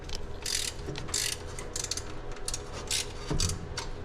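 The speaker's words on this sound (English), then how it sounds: "we'll loosen up this 9/16 and this half down here, and that should allow our alternator to swing free" A ratchet wrench loosening alternator bolts on a 1987 Dodge D100 pickup, quick bursts of clicking ratchet strokes in short irregular runs, close up and fairly quiet.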